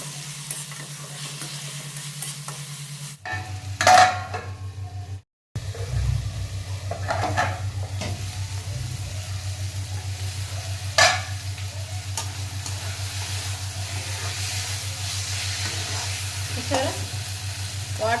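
Mint leaves and softened tomato frying in a pan for chutney, with a steady sizzle, a brief drop to silence, then intermittent stirring scrapes and clinks over a constant low hum.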